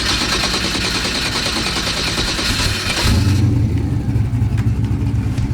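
A street race car engine fires up and revs, a loud, dense roar with crackling bursts that drops into a deeper, throbbing idle partway through, close and alone with no talk.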